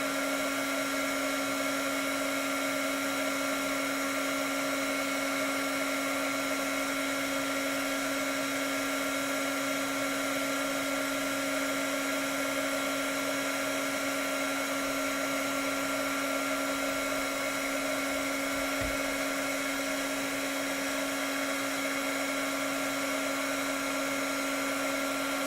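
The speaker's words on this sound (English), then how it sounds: "I think I might actually leave my embossing gun set up on this thing" A handheld embossing heat gun runs continuously while heat-setting a stamped card, giving a steady, unbroken whine and airy blowing hum that holds level and fairly loud throughout.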